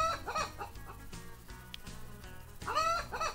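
Chickens in the farming game Agrar Simulator 2013 give a few quick clucks and squawks, with bursts at the start and end and quieter pauses in between, heard clearly and up close.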